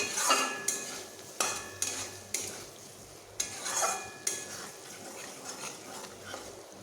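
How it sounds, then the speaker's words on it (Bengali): Fried potatoes are stirred and sautéed in a pan, with intermittent spatula scrapes and clatters over a soft sizzle, close and moderately loud, with brief pauses between strokes. "ভেজে রাখা আলুগুলো দিয়ে আমি বেশ আরও একটু এইভাবে কষিয়ে নেব"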